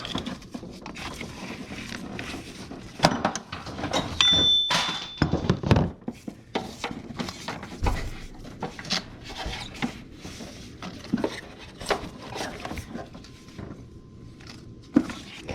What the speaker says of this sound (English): Now, just rip out the old belt.